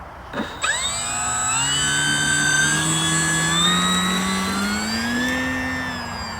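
Electric motor of a Durafly Tundra RC plane spinning up on a cold morning, a rising whine with clear tonal harmonics that climbs quickly after a click and then holds steady and loud, slightly wavering in pitch.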